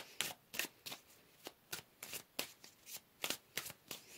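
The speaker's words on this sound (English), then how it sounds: "So let's pull another card here." Tarot cards being shuffled by hand, a quiet, close series of about a dozen crisp riffling bursts in a loose, steady rhythm, with no talk.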